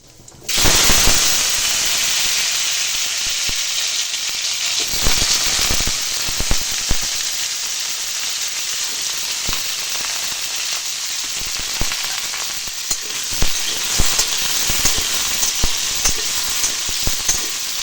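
Potatoes frying in hot oil in a home kitchen, giving a loud, steady sizzle with crackling pops scattered throughout, no voices.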